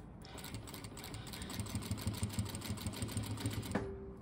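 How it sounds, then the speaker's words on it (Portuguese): Sewing machine running steadily while stitching pieces of a patchwork quilt together, a continuous rapid mechanical whir with rhythmic needle chatter, close and fairly loud, then stopping abruptly near the end. "E vamos fazer a costura de novo."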